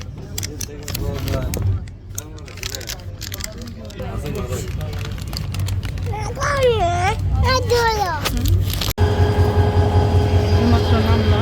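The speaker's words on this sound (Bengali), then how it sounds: "ট্রেন এটা চলে যাচ্ছে," A train rumbles past heading toward Dhaka, a steady low mechanical drone beneath a voice and nearby chatter, swelling slightly louder toward the end.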